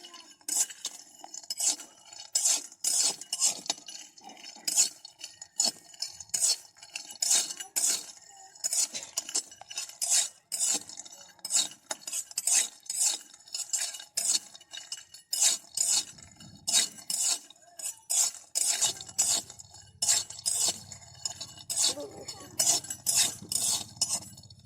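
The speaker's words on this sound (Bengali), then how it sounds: "এবার আমরা শুকনো কড়াইয়ে লইট্টা শুটকিগুলো দিয়ে দিব।" Dried Bombay duck fish stirred in a dry wok, rapid clinking and scraping strokes of a metal spatula in a quick irregular rhythm, close up, with a low hum entering near the end.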